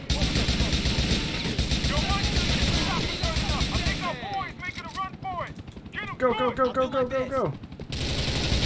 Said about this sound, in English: What was he shooting at?